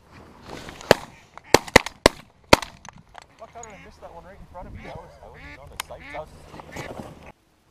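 Geese honk and cackle repeatedly at mid distance during a waterfowl hunt in Alberta, their nasal calls overlapping, after several sharp gunshot bangs; people talk briefly in the background.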